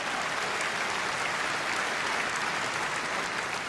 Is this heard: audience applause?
yes